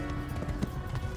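A horse gallops in Kingdom Come: Deliverance, its hooves thudding in a quick, uneven clip-clop rhythm at close range for a brief moment.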